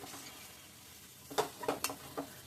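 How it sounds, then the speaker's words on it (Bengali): A cinnamon-cardamom paste is stirred into a frying dish, with a faint background hiss followed by several short scraping stirs close by near the end, with no talking. "দিয়ে ভালোভাবে নেড়ে ছেড়ে দিই"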